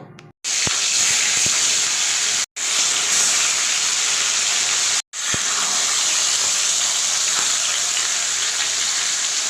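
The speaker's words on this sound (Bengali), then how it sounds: "তো মাছগুলো এখন ভাজা চলছে" Loud, steady sizzling of bata fish frying in hot oil, a continuous crackling hiss broken by two brief silent cuts.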